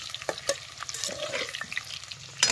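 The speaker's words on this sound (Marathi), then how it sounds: "आता बटाट जरा खालवर करून घेतो." Potatoes shallow-frying in oil for dum aloo are turned over in a pan on a wood-fired stove, giving soft crackling sizzle and scattered clinks and scrapes at moderate loudness; no one speaks.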